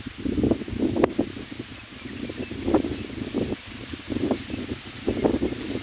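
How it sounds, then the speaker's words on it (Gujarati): Strong wind gusts through a jowar (sorghum) field ahead of a storm, leaves rustling in surging waves with buffeting microphone noise, loud and continuous. "અતિ પ્રમાણમાં પવન આવે અત્યારે."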